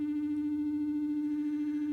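Steady electronic drone from a no-input mixing setup, a strong sustained tone with stacked buzzing overtones and a slight wobble, loud and unbroken with nobody talking.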